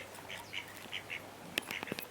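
Chickens cluck and chirp softly in short, scattered calls against a faint background, feeding on the remains of damaged peaches.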